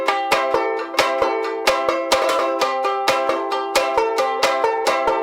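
Ukulele played with a split stroke, bright plucked chords struck in a quick, steady rhythm, each attack crisp and close with short ringing decay.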